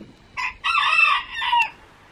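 A rooster crows once, a clear multi-part cock-a-doodle-doo about two seconds long, nearby and alone against quiet background.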